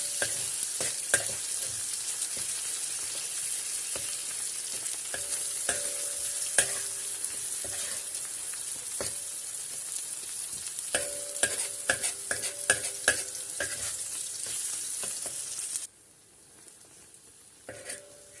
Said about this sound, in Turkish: Şöyle tekrar karıştıralım.